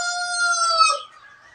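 A rooster crows loudly and close on a backyard farm where the flock is being treated for illness, one long harmonic call that breaks off and trails into quieter clucking.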